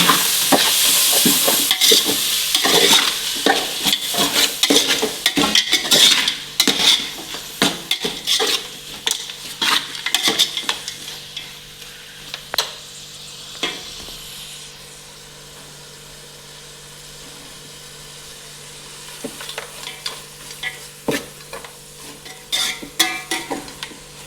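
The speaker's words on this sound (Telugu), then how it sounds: "ఇంకా మనము అంతా కలుపుకొని టమాటాలు ఫ్రై అయ్యేంత వరకు అయితే పెట్టుకుందాం." Tomatoes and tomato water fry and get stirred into chicken biryani masala, with sharp utensil scrapes and clinks over a steady sizzle that fades midway before stirring picks up again.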